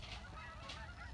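A flock of geese honks while flying south over an autumn garden, two or three clear honks spaced apart against a faint, steady outdoor background.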